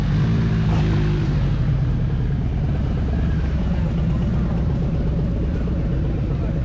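Fans run with a steady, dense broadband whoosh and low hum that holds at an even level throughout, close and unbroken, in a garage setting with a motorcycle nearby.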